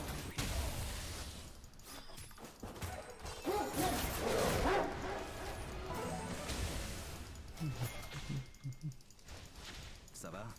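A voice imitating the dog bark from 101 Dalmatians, a few barking yelps over background game sounds, fairly faint and uneven.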